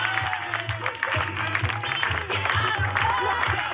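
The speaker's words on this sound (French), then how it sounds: "je demande à d'un tonnerre d'applaudissements" Thunderous applause fills a French award ceremony as a top saleswoman is honored, a loud, dense wash of clapping from a large crowd over a steady pulsing music beat.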